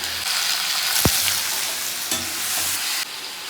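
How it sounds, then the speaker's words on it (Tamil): Tomatoes and garlic sauté in a hot pan for paneer butter masala, giving a steady close sizzle with a few louder stirring scrapes and spatula knocks and no talk. "ஒரு 4 பூண்டு போட்டுருக்கேன். 3 இல்லை 4 பூண்டு, ஒரு தக்காளி 2 போட்டு வதக்கிட்டுருக்கேன்"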